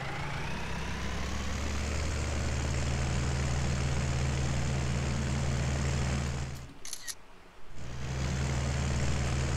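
A Ford 3600 tractor engine in the Farming Simulator 19 video game drones in a steady, even idle-like hum, cutting out briefly near the end before resuming at full level.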